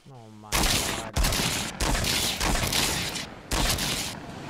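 Rapid bursts of gunfire in the video game Fortnite, several loud automatic volleys separated by short gaps, with players talking over the shooting.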